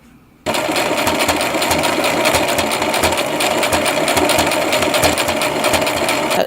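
A sewing machine stitches camping gear for cold-weather camping, a loud, steady, rapid mechanical whir that starts abruptly after a brief quiet and runs without pause.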